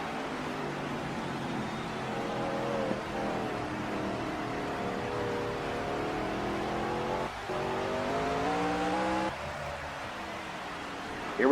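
Race cars at speed on a track, a continuous loud engine drone with rising and falling revs as several cars run close together, steady throughout with no clear voices.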